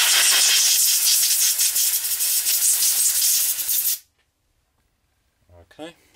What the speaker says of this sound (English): A little air blower. It's for electronics, but it does get rid of the majority.